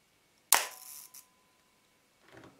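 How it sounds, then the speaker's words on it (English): A Canon F-1 film camera with a sticky slow gear fires its shutter, one sharp loud snap followed by a short whirring mechanical run and a small click, then a faint rustle. "So I press the shutter button again"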